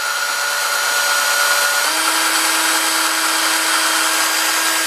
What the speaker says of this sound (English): I'm going to take my drill bit that I use for tuners, and a couple little holes